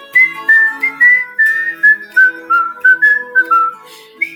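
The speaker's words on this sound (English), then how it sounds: "Should I whistle to this one too?" A person whistles a melody in short, clear phrases, each note sliding slightly, loud and close with no other sounds around it.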